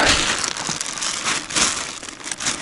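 Close, continuous crinkling of a plastic bag handled while mushroom picking, with uneven surges of rustle and no voices.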